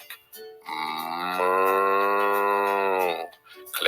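A single long, drawn-out moo rising and holding for about two seconds, sounding like a person imitating a cow during a read-aloud of a farm story.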